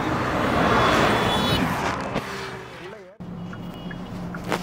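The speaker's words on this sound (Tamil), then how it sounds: "காரை இப்போ நம்ம டிரைவ் பண்ணி இது எப்படி பெர்ஃபார்மன்ஸ் பண்ணுது, எவ்வளோ பவர்ஃபுல்லாக இருக்குங்கிறத அப்போ உங்களுக்கு காட்டுறேன்" A Hyundai Creta N Line car on the move, with steady road and engine noise from inside the cabin, a short drop near the middle, then the drive sound picks up again.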